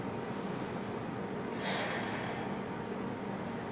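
Steady, soft breathing during a Pilates mat exercise, with a fuller exhale rising midway through, close and continuous with no talking.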